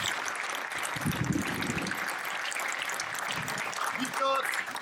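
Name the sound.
audience applause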